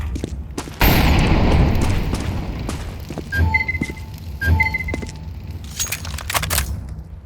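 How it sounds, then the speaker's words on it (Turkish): A sudden loud boom from a grenade in Counter-Strike 2 on the Dust2 map bursts out, followed by lingering rumble, scattered clicks and short electronic beeps. "Nasıl patlattı bombayı kafamda?"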